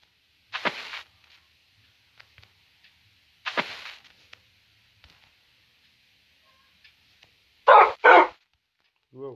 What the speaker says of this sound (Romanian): Ce-mi latră câinii